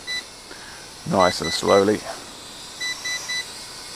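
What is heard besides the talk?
GTENG T905C drone beeping on return-to-home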